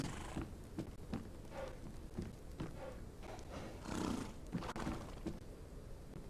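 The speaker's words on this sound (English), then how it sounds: "I've fed all the horses in here and check on them" Horses in a stable in an Old West video game, with a few soft hoof thuds and snorting, whinnying horse sounds scattered through a quiet scene.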